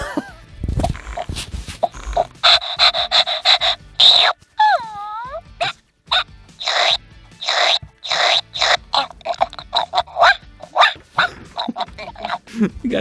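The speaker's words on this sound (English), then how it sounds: "She started like vibrating, kind of growling." A Little Live Pets toy puppy vibrating and growling, giving off a run of buzzy electronic yips and rumbles with a brief warbling whine partway through. The sounds come in short, close, moderately loud bursts.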